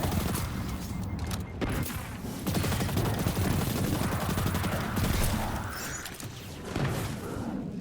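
Rapid bursts of gunfire from the video game Destiny 2 clatter loudly and almost continuously, with sharp cracks and heavier thuds layered through dense combat noise.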